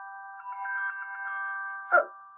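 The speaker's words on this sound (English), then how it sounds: "Your phone's going." A phone ringtone plays a soft, steady electronic melody, fairly faint, ending with a short brighter ding near the close.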